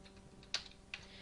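Two sharp keystrokes tap on a computer keyboard, close and quiet, spaced apart against a faint steady room hum with no voices.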